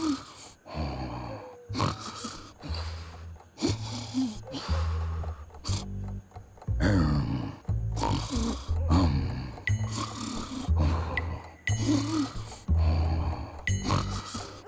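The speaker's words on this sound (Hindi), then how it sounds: "शादी के पहले रात को कोई खर्राटे मारता है।" A man snoring in bed on his wedding night, loud rhythmic snorts and rasping breaths repeating every second or so, close and steady with no talking.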